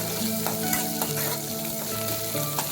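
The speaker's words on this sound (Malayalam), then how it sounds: "നന്നായിട്ട് വഴറ്റുകയാണ് ഞാൻ." Shallots, curry leaves and green chili sautéing in a pan give a steady, close sizzle with repeated scraping strokes from the stirring, alone without voices.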